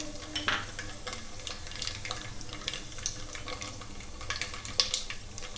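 Red chilies and cumin seeds frying in hot oil in a pot for eggplant curry, a soft steady sizzle with scattered pops and crackles and occasional stirring clinks, close and fairly quiet, with no talking.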